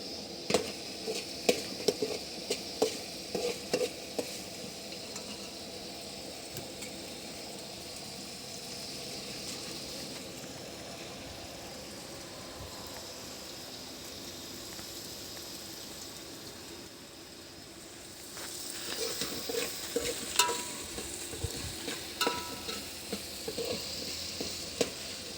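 Onion frying in a pan at an outdoor picnic meal, a low steady sizzle with scattered scraping stirs in bursts near the start and after a brief quieter stretch partway through.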